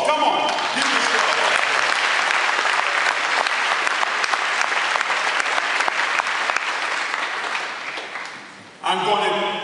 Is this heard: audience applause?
yes